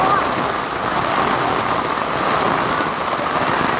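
Heavy rain pours down at a temple in Cambodia in a steady, dense hiss with no breaks, close and loud throughout.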